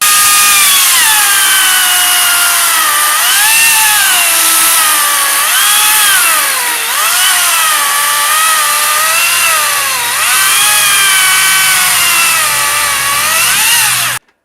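Makita 18V cordless saw cutting timber during tree pruning, a loud close whining motor that rises and falls in pitch with each cutting stroke, running steadily for about fourteen seconds before stopping abruptly.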